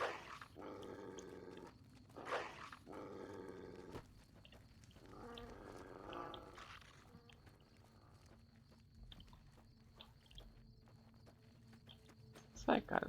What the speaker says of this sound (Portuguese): O cachorro tá indo atrás de mim